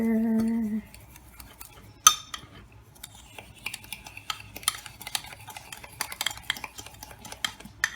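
Egg yolk mixture stirred in a bowl for a dessert haggis, giving soft irregular scraping and clinking of utensil against the bowl, fairly close, with a sharper knock partway through and no talk.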